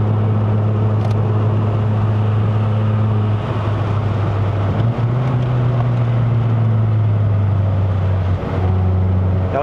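A Suzuki Swift Sport ZC33S with a 1.4-litre K14C turbo four-cylinder and six-speed manual drives uphill on the Genting road in Malaysia, its engine droning steadily under road and wind noise, rising slightly in pitch partway through.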